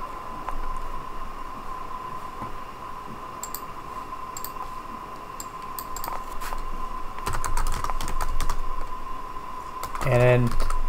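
Typing on a computer keyboard, bursts of quick clacking keystrokes that thicken toward the end, over a steady electrical hum, with a brief voice near the close.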